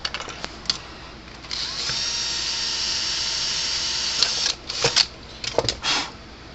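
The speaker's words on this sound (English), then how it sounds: "Drill a hole." A drill whines steadily while boring a hole in the case of a PEL PE53 power fencer, with sharp clicks and handling knocks before and after the main run, close and fairly loud.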